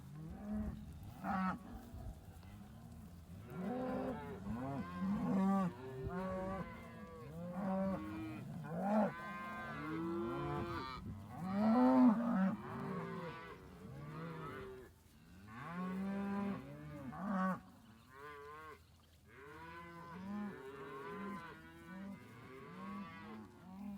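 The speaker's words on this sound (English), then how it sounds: "All the cows and calves from the winter pasture back together at last" Cows and calves on a home ranch, freshly reunited from winter pasture, moo and bawl almost without pause, overlapping loud, close calls of varied pitch from many animals at once.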